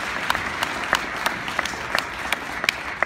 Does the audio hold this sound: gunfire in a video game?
no